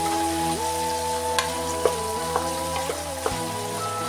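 Vegetables fry in a pan for vegetable pulao with a steady sizzle and several sharp scraping stirs, while a sustained tonal hum and music-like tones run underneath and nobody speaks.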